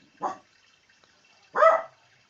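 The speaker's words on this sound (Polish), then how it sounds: "A do pieska mówię, żeby był cicho. Bo szczeka teraz." A dog barks twice, each a short close bark about a second and a half apart, with near silence between and no talking.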